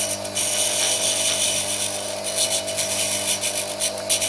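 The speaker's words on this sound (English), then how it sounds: "I could, if I want, put a chamfer on this. It's a little bit tricky, but I use the side of the wheel for this." A workshop grinding wheel chamfers the end of a screw against the side of the wheel, giving a steady loud motor whine with harsh gritty grinding that flickers as the metal is pressed on.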